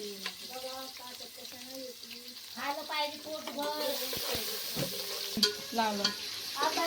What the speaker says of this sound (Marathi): त्याच्यानंतर टाकू आपण कांदा, टोमॅटो, कोथिंबीर हे सगळं आपल्याला टाकून घ्यायचंय पटापटा.